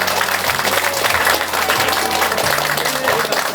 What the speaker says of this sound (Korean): 여러분의 박수가 진심이 가득 담긴 듯한 그런 느낌이 들었습니다